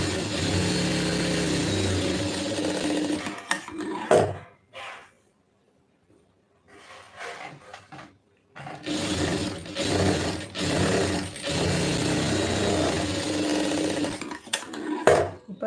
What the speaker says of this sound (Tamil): இப்போ வந்து வளைச்சி ஒரு தையல் போட்டுருங்க